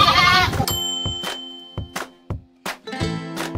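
A goat bleats at a livestock auction market in Padre Garcia: one loud wavering bleat up close, then scattered knocks and clanks in the pens.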